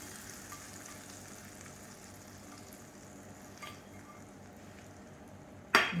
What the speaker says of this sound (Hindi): ये गरम गरम तड़का जो है ये हम डाल देंगे इस दाल के ऊपर